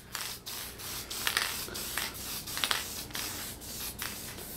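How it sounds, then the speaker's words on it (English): Short hissing bursts of clear sealer spray from an aerosol can, repeated several times at close range with brief pauses between them. "start spraying it with the sealer"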